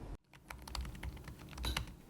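Typing on a computer keyboard makes a quick run of soft, close key clicks with an irregular rhythm, heard alone at low volume after a brief gap.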